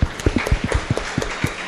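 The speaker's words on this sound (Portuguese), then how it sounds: "Uma salva de palmas, 100 anos de Menelik." A studio audience on a television talk programme applauds, a brief steady wash of clapping with scattered heavier thumps, fairly close and without voices.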